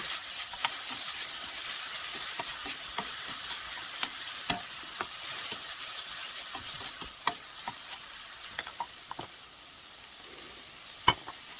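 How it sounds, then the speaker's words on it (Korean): Sliced beef stir-fried in a pan for a dried-radish japchae, a steady close sizzle with frequent scraping stirs and occasional sharp clicks of the utensil against the pan. "아까 썰어 놓은 쇠고기를 볶아줄 거예요."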